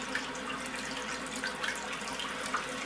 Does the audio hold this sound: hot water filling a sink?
yes